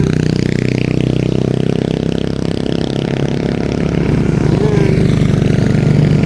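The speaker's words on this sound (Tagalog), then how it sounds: "mayroong mga motor na dumaan. Motor lang yan guys." Motorcycles pass by close on a road with a loud, continuous engine drone and rattle. The sound swells and shifts as the bikes go past, and no voices can be heard.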